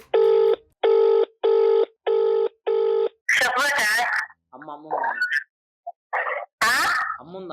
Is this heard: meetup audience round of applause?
no